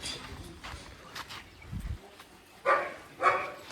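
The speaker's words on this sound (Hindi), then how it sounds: "ये देखो भाई कुत्ता भौंक गया" Two sharp dog barks ring out a moment apart at moderate distance, following some faint rustling and a soft thump.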